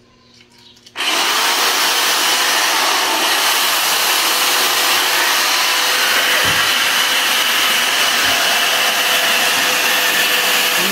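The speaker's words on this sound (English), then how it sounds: "So we'll have to use a coarse sandpaper" A power sander with coarse sandpaper grinds hard carbon deposits off engine valves during a BMW M10 rebuild. It switches on after a second of quiet and then runs as a loud, steady abrasive whir.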